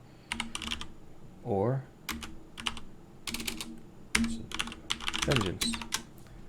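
Bursts of computer keyboard typing, quick clusters of clicks separated by short pauses, with someone speaking briefly between the bursts.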